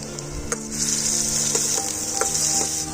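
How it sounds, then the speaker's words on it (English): Steady, close sizzling of onions frying in hot oil for veg cutlets, with a few light clicks and scrapes of stirring through the crackle. "When the oil gets hot, add the onions."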